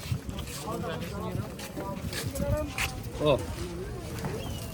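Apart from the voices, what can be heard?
boat setting off across flooded water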